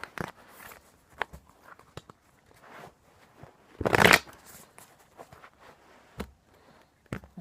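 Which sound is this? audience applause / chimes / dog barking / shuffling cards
shuffling cards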